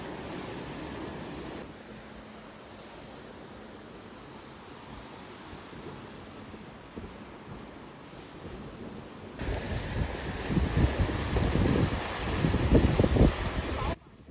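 Sea waves surround a hilltop temple at Jaigad, a soft distant wash of surf with wind that swells louder and rougher toward the end, with no talking.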